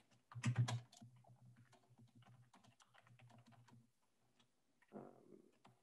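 Typing on a computer keyboard, a quick close burst of clicks at the start followed by lighter, irregular key taps and a final clatter, with no talk.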